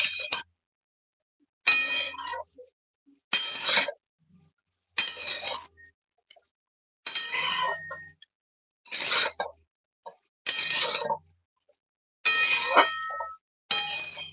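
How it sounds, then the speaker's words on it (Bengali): Spices being mixed into tender bottle gourd with fish head in a metal pot for lau ghanto, heard as about eight rhythmic bursts of a spoon scraping and clanging against the pot, separated by short silences. "এবারে আমি মশলাটা লাউয়ের সাথে ভালোভাবে মিশিয়ে নেব"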